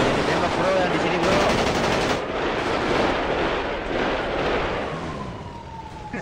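Bursts of automatic gunfire ring out in the GTA V roleplay game during a large battle between Roxwood and Los Santos, rapid rattling volleys under a steady din, with a brief siren-like tone near the end.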